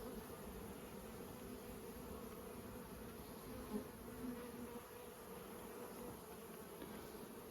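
Honey bees hum in a dense, steady buzz around an open hive during a honey super check at an apiary, a continuous close drone with no talk.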